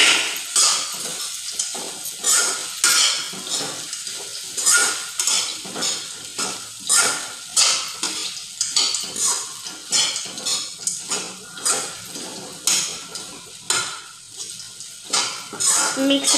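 Poha mixture being stirred in a pan makes repeated scraping, clinking strokes of a spoon against metal in a steady rhythm, close and fairly loud, over a faint sizzle.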